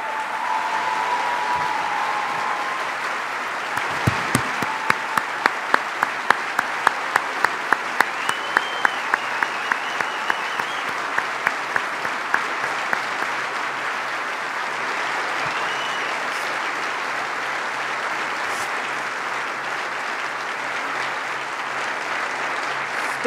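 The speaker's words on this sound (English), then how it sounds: "please stand up and let's give these heroes a round of applause" A large audience applauds at a state government address, a long sustained round of clapping with a stretch of sharp rhythmic claps near the start before settling into a steady even roar.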